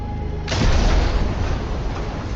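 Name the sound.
torpedo explosion hitting a ship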